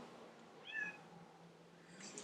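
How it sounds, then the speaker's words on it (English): A cat meows once, faint and muffled as if from another room, against a quiet indoor background. "You hear my cat, he's fine."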